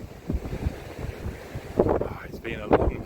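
Strong coastal wind at Scarborough gusts and buffets the microphone with irregular low rumbling bursts, while a person speaks over it.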